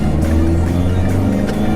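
A turbocharged Mazdaspeed3 running an E85 tune, putting over 300 horsepower to the wheels, gives a loud, close, sustained engine drone with a steady low hum throughout the short stretch.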